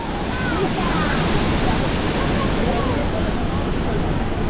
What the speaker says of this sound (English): So here we are at the bottom of a waterfall